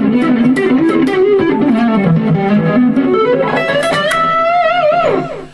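A distorted electric guitar played on the back pickup runs a quick lick with screaming string bends. It is loud and close, with sustained bent notes that climb high near the end and then cut off.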